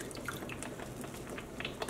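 Dye for yarn dyeing pours out in a soft, steady trickle with light dripping and splashing, faint and close, with no talking.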